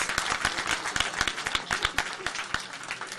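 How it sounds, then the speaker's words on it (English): Warm applause from the audience at a military change of command ceremony of the Presidential Security Group, Armed Forces of the Philippines, with many hands clapping steadily and some sharp, distinct claps standing out, heard at a moderate distance. "Let us give a warm round of applause for Brigadier General Ramon Mateo Dizon"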